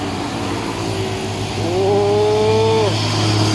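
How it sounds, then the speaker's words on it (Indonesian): A Hino tronton truck overtakes a sand-laden truck, a droning diesel that swells into a louder rising rev midway, then settles, heard from nearby with steady road noise beneath. "Wah, truk tronton Hinonya menyalip truk engkel pasir."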